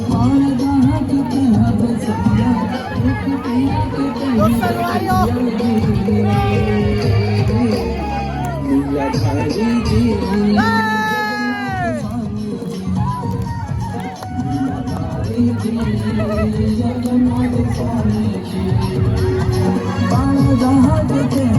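A dense, jostling crowd at a Rath Yatra festival fair, a constant loud hubbub of many voices close around, with someone talking over the din throughout.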